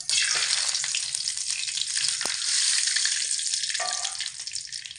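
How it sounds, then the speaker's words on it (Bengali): Whole cumin, black cumin, cardamom and bay leaves fry in mustard oil, giving a loud, dense, hissing sizzle that holds steady throughout, close up, with no talk. "এবার এর মধ্যে আমি একে একে সমস্ত ফোড়নগুলোকে দিয়ে দেবো"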